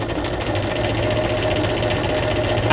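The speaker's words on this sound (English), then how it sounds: "I pulled my sewing machine out today." A home sewing machine runs steadily throughout, a continuous mechanical whirr with a fast, even stitching rattle at close range and no talking.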